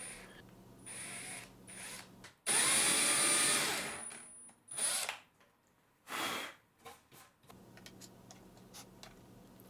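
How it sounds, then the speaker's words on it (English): A power drill bores tab holes to a taped depth of 3/8 inch in the back of a wooden drawer box, one loud burst of about a second and a half followed by shorter whirs and clicks. "Last thing on the back is to drill holes for the tabs with tape to make sure that it only drills down 3/8 deep."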